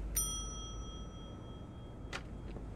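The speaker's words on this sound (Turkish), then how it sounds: "Dur zilden önce şu zili çalayım bakayım biri gelecek mi?" A front desk bell in The Wolf Among Us video game gives one bright, ringing ding with a shimmering tone that hangs on, heard alone and fairly quiet against a low background hum.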